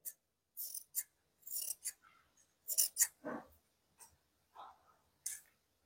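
Scissors snip through spare blouse fabric during tailoring, a series of short dry cuts and rustles close by, separated by brief pauses.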